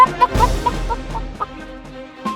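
A hen clucks in a cartoon fairy tale scene, a run of short, close, bright clucks in an uneven rhythm, loud and alone without voices.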